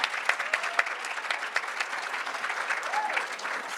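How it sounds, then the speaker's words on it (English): An audience at a luncheon applauds the waiters, a steady close burst of clapping from a seated crowd that carries on without a break. "let's applaud these waiters right here that are taking care of us today"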